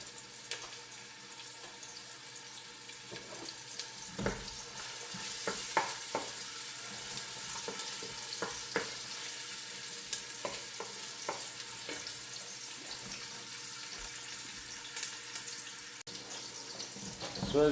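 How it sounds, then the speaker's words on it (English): Garlic, onions and fresh basil frying in a hot pan while being stirred for homemade meatballs: a steady low sizzle punctuated by irregular clacks and scrapes of a utensil, with occasional quiet talking. "So you want to stir it and make sure you don't burn the garlic."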